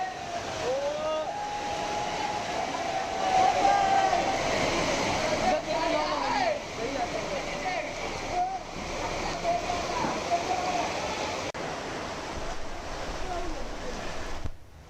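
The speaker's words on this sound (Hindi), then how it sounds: "पानी के तेज बहाव सड़कों पर दिखाई दिए" Torrential floodwater rushes through city streets in Jodhpur after heavy rain, a loud continuous roar of churning water that holds steady throughout with no voices.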